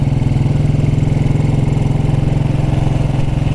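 A 1929 Ariel motorcycle engine running steadily on a ride along country lanes, a loud, close, even low-pitched thumping beat that holds without change throughout.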